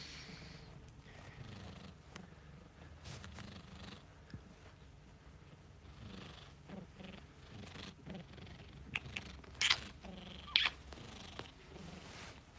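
A cat purrs close up in a low, continuous rumbling rhythm, with occasional soft rustling and brief clicks over it.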